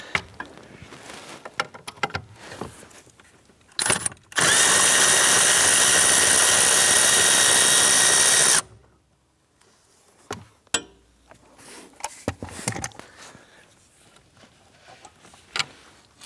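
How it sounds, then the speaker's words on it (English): A power tool, likely an impact wrench, whirs loudly and continuously for about four seconds as it loosens a 13 mm nut on the blower motor of a 2008–2013 Nissan Rogue. Scattered clicks and handling taps come before and after. "There's a 13 millimeter nut right here. Let's go ahead and loosen and remove that one."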